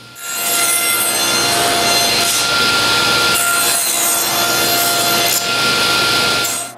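A hand saw cuts through pieces of wood in quick, loud back-and-forth strokes, close by and rasping, running almost without pause for about six seconds with brief breaks between strokes.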